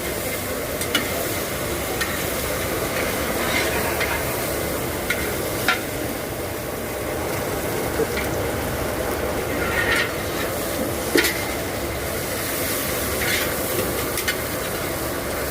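Fried rice sizzles steadily in a hot pan while a spatula stirs and scrapes, loud and continuous, with scattered sharp clinks of utensil on metal throughout.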